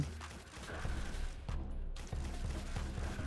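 Rapid bursts of distant gunfire in a Roblox world-war game crackle in quick succession under a constant background rumble, with no voices.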